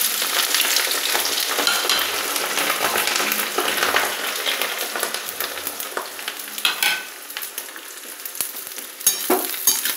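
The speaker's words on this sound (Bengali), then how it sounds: "লঙ্কাগুলো দিয়ে দিতে হবে তেলের মধ্যে।" Green chillies frying in hot oil in a wok for a chilli pickle, giving a loud, close, dense sizzle that slowly settles into crackling with occasional pops, with no talk over it.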